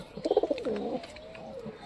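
A pigeon near its nest with a chick gives a close, soft coo, a quick pulsing burst followed by a drawn-out warbling note.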